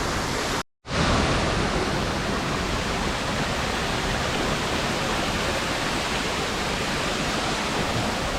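Steady, loud rushing of a waterfall and stream pouring over rocks near Munnar, a dense unbroken roar that fills the whole stretch, interrupted only by a brief dropout near the start.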